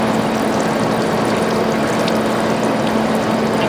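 Liquid pouring steadily and loudly into a container during a fungal protein material process, a dense continuous wash of splashing with no pauses and no talk.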